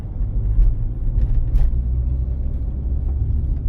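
A car drives at low speed on a road while overtaking a slow tractor, producing a steady low engine and road rumble that holds evenly throughout with no talk.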